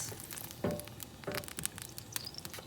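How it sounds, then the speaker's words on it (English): Coconut oil heating on high in a pan for stir-fried rice, with faint, scattered crackles and soft sizzling pops at close range in an otherwise quiet kitchen. "Go ahead and heat that up on high heat until the oil heats up a little bit."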